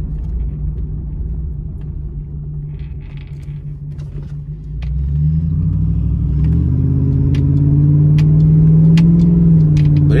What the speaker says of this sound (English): can you hear the exhaust noise on camera?